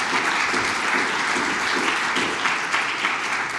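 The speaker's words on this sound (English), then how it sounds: "let's give them one more round of applause for what they're doing in their service" An audience at a live community event breaks into sustained, dense applause, with many hands clapping steadily and evenly throughout, loud and close with no speech over it.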